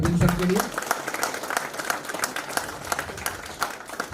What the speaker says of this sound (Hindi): जोरदार तालियां अरविंद सर के लिए